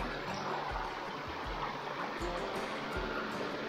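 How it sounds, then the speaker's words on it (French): A rushing river in Québec roars steadily and fairly quietly as a continuous broadband wash, with faint low thumps underneath and no speech. "Je suis couvert par le bruit de la rivière."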